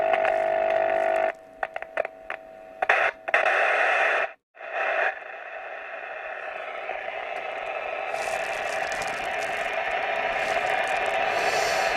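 A repaired Hacker Herald RP30 radio playing through test speakers, with broadcast sound cutting in and out through static and dropouts before settling into steady reception with rising hiss.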